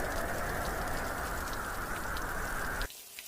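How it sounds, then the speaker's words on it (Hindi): Heavy rain pours down in a steady, dense roar under dark storm clouds, close and loud throughout, then drops away abruptly just before the end. "कुछ ही देर में घनघोर बारिश शुरू हो जाती है"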